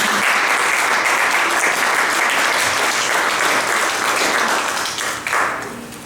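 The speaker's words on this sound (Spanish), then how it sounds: "Denle un aplauso al Señor." A church congregation applauds in steady, dense clapping that fills the room, loud and continuous before easing slightly near the end.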